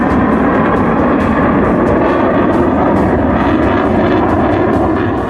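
Indian Air Force Mirage and MiG fighter jets roar over an expressway airstrip, a loud, continuous, close engine rumble filling the whole stretch with no voices.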